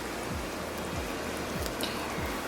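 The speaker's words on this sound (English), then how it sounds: "you can hear the rain really clearly like this." Rain from the film Blade Runner falling steadily as a dense, even hiss of drops, loud and constant throughout, with faint low swooshing pulses underneath and no voices.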